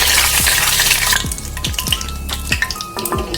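Cloves and cardamom drop into hot oil in a kadai: a loud sizzle at first, then a run of crackling pops and spits in an uneven rhythm as the oil settles down, with no talking.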